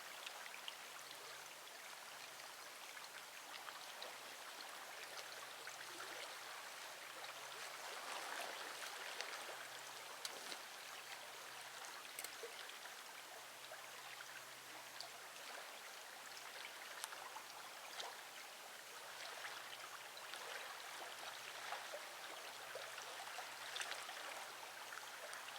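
Water trickling steadily from a homemade survival water filter into a cup, a faint, continuous light patter and drip against quiet background hiss.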